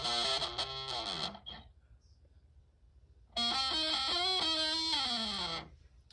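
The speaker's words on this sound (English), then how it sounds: "I switch to the neck pickup and turn on the distortion." An electric guitar played on the neck pickup with distortion rings out in two thick, sustained phrases with bending notes, separated by a short quiet gap.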